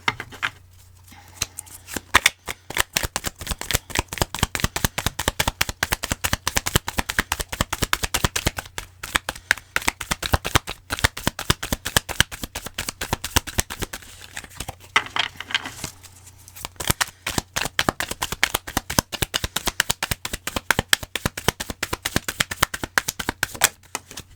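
Tarot cards being shuffled and drawn by hand, a dense, rapid run of crisp riffling snaps and flicks, loud and close, with short pauses between shuffles and no speech.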